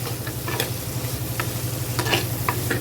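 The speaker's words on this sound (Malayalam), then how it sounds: "സവാളയും പച്ചമുളകും നന്നായിട്ടൊന്ന് ഇളക്കി കൊടുക്കും." Onions and green chillies stir and sizzle in a pan, a steady close frying hiss broken by several sharp spoon scrapes and clicks, with no talk.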